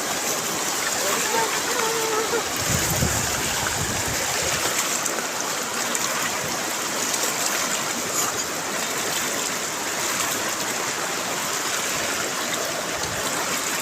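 Floodwater running over a village road in Odisha, a steady broad rushing wash with occasional splashes, continuous and fairly close, with voices talking faintly underneath.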